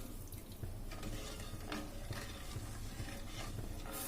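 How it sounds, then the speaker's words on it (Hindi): Semolina halwa being stirred in a pan right after three cups of water go in, a steady wet scraping and bubbling sizzle running continuously and fairly close, with no talking. "अब इसमें हम 3 कप पानी डालेंगे, इसको अच्छी तरह मिक्स कर लेंगे।"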